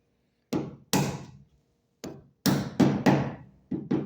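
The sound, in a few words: rubber hammer tapping a trim clip into place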